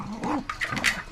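A dog close by gives a quick pair of sharp, whiny barks and yips in about a second, loud against a quiet room.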